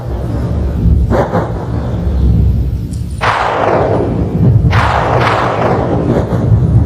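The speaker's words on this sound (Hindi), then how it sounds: "हिम वर्षा होने लगी और भयंकर तूफान ने गरजते हुए धावा बोल दिया।" A fierce storm with snowfall, loud continuous roaring rumble broken by several sweeping whooshing gusts, dense and close without voices.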